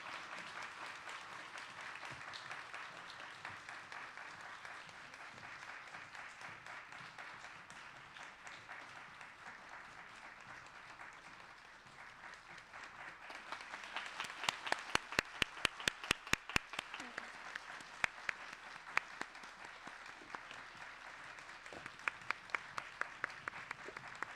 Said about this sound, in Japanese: 皆様 今一度大きな拍手でお送りください